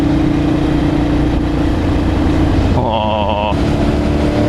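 A motorcycle cruises along with a continuous, close engine drone and wind rush, a brief higher tone cutting in partway through before the steady rumble carries on.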